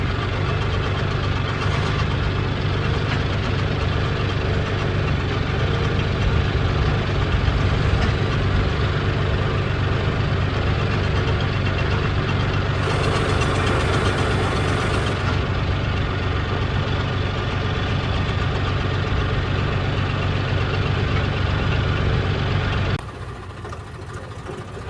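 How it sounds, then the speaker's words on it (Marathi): A tractor engine idles at night on the road to a factory, a loud, steady, low diesel drone with a knocking edge that runs unbroken and drops to a quieter rumble in the final seconds. "तर चला आता आपला ट्रॅक्टर बी आपण उतरून देऊ."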